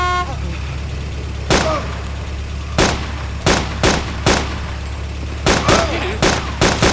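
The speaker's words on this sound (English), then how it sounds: "can you shoot that zombie?" Video game gunfire aimed at zombies near a gas station, with loud single shots in short bursts cracking over a constant low engine drone.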